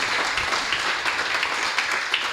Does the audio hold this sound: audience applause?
yes